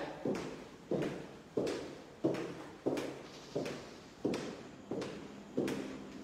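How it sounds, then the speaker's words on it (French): Noisy shoes on a hard floor, nine evenly spaced, fairly close steps, each a hollow thud with a short scuffing tail, heard alone with no talking. "Est-ce que vous savez c'est quelle chaussure qui fait bruit comme ça?"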